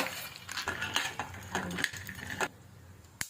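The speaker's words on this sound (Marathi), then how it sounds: "आता आपण बदाम फ्राय करायचं पहिल्यांदा" Almonds fried in a spoonful of ghee are stirred over low heat, a spoon scraping and clinking against the pan in irregular bursts, with a sharp tap near the end.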